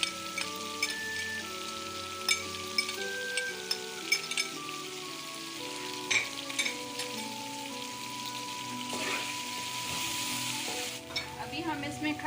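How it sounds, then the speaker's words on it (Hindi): Green chilies and tomatoes sizzle and fry in a pan for chana pulao, with a steady crackling hiss and occasional stirring scrapes and clinks, alone without talk. "अभी हम इसमें खड़ा मसाला जात डाल देंगे और इनको भी अच्छे से फ्राई करेंगे इसके साथ"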